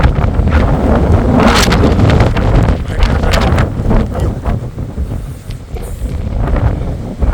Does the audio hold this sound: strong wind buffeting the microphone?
yes